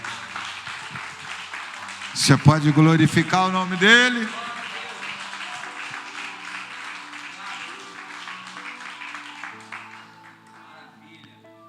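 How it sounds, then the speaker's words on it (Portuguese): Church congregation applauding, a broad wash of clapping that continues steadily beneath a preacher's amplified voice and fades out toward the end. "Você pode dar um grande aplauso ao Senhor."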